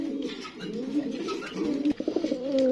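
A female white Lakha pigeon coos in soft, repeated throaty phrases, close by and steady, with light background noise.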